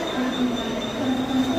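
A train rolls steadily along the railway with a constant loud rumble and a thin high wheel squeal, heard from close by for the whole stretch.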